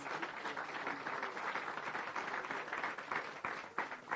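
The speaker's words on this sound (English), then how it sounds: "Give the children a big round of applause." A crowd at a reforestation launch in Jamaica gives the children a sustained round of applause, dense and steady clapping that fills the space for several seconds.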